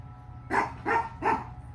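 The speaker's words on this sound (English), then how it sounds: "Let me see what Loki is actually barking at" A dog barks three times in an even rhythm, close and moderately loud, over a low steady background hum, with no talking.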